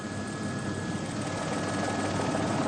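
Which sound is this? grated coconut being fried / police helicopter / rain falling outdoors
police helicopter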